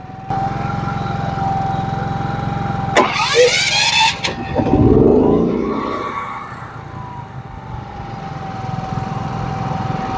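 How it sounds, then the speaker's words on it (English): Two GM9000iED generators run together with a steady engine hum and whine, broken by a burst of starting and revving noise in the middle before settling back to a constant drone. "All right, we got both generators running now."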